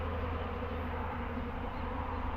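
Honeybees fan their wings at the hive entrance after a swarm transfer into a hive or nuc, making a steady, dense hum close by that holds without a break.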